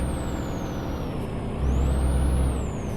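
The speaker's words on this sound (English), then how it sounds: "Have to test out the Jake brake." A Peterbilt 387 truck's Jake brake in Euro Truck Simulator 2 gives a steady, loud engine rumble that grows louder and deeper about halfway through, with a high whine running throughout and no voices.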